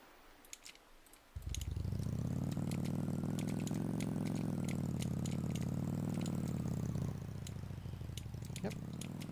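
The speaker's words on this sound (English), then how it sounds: "I have a shower here." A shower in the video game Roblox Bloxburg switches on abruptly and runs as a loud, steady hiss, with light keyboard clicks tapping over it.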